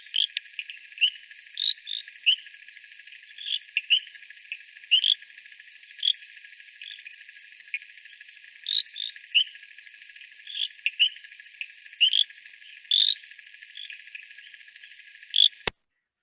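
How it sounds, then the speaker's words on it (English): Pickersgill's reed frog calling alone, a series of short, sharp high-pitched clicks and chirps repeated at irregular intervals, close and clear against a silent background. "just to let you hear what Pickersgill's reed frog sounds like"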